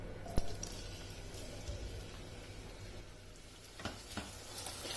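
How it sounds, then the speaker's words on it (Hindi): Onions sizzling in hot oil in a pan for mutton keema fry, a steady low crackle with a few sharper pops, moderately quiet and without talk. "अब इसमें प्याज डाल देना है"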